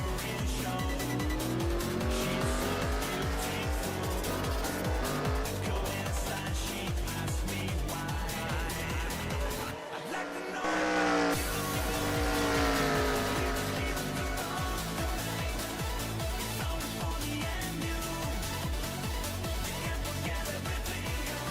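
Stock cars in the NASCAR Racing 2003 sim game roar steadily around the track to the end of a race, a continuous loud engine drone with shifting pitch and passing cars, briefly cutting out midway.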